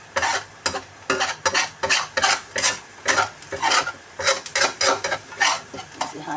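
Cauliflower rice stir-fried in a kawali like a scramble, loud rhythmic scraping and tossing strokes of a spatula against the pan over a light sizzle, repeated in quick bursts with no talking.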